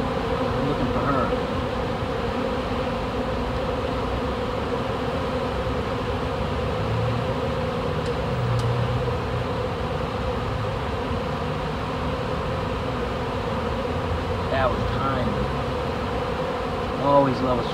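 Dense, steady buzzing of a honey bee swarm circling a hive box outdoors, a continuous drone of many wings with occasional nearer passes, lasting throughout without talk.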